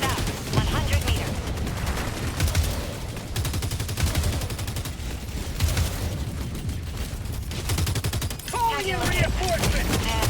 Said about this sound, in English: why is that silly turret shooting a machine gun? But no, it's a tank.